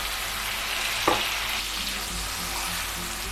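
Chicken frying with ground cumin and vinegar makes a steady, close, loud sizzle, with one short stirring knock early on.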